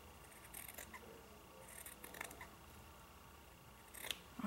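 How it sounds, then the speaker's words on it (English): Scissors snip the corners of fabric for a 4x6 mini album cover, a few faint, quick cuts scattered through an otherwise quiet space. "another thing I should do first is kind of cut these corners."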